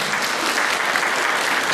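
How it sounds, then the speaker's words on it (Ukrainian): Steady, dense applause from a large audience at a creative evening concert in Hrebinka, Ukraine, fills the whole stretch, continuous clapping with no voices standing out. "Оплески Марині Шукотанській."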